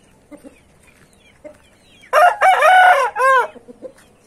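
Two grey roosters crow loudly in quick succession, long ringing calls following soft scattered clucks and faint background noises.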